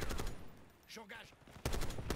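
Rapid bursts of gunfire in the video game Black Ops 6 open and close the moment, loud and close, with a voice speaking briefly in the quieter gap between them.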